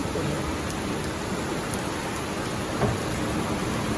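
Heavy rain pours steadily throughout a thunderstorm on a summer night, a dense and constant wash of downpour with a faint rumble of thunder briefly rising near the end.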